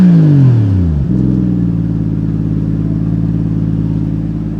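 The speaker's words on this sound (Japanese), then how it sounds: "じゃあちょっとアクセル吹かしてみましょうか" A Toyota Mark II JZX110 iR-V's 1JZ-GET engine, loud and close, revs high and falls away, then settles into a steady, rumbling idle.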